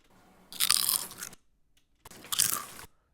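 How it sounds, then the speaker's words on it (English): Two loud, close crunching bites of crisp chips, each lasting under a second with a pause between them. "I like eating crunchy chips."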